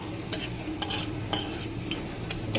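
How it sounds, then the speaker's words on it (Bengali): Bay leaf, cinnamon, cloves and a dried chilli fry in oil in a kadai, a continuous sizzle broken by several sharp scrapes of a spoon stirring against the pan. "এটা ভেজে নেব।"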